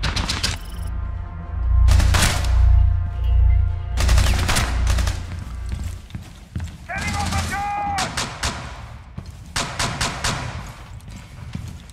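Heavy gunfire from the Rainbow Six Siege PC game: loud rapid automatic bursts and thudding shots in several volleys, mixed with game effects and voices talking over the action.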